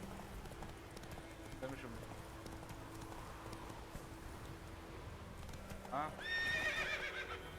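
In The Witcher 3, a horse's hooves clip-clop steadily at a run under game ambience, and a clear neigh breaks out near the end while someone talks briefly.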